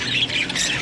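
A pet scaly-breasted munia giving a brief, thin, high squawking call, close and fairly loud, lasting under a second with no voices.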